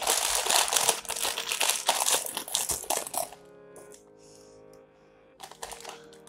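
A plastic bag is handled and crinkled up close, with loud dense rustling for about three seconds, a quieter pause, then more crinkling toward the end.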